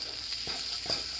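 Flour cooks in a pan for chorizo chili with a faint, low sizzle, broken by a few soft stirring scrapes against the pan. The whole sound stays quiet and close.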